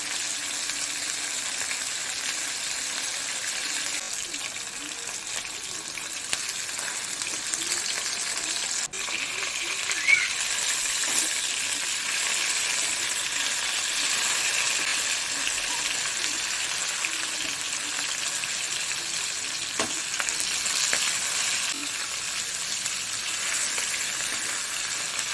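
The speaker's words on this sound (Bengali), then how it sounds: "গুলোকে একটু ভালো করে ভেজে নেব 2 মিনিটের মতো।" Hilsa fish pieces frying in oil, a steady close sizzle and crackle sustained for the whole stretch, with occasional brief spatters and no talking.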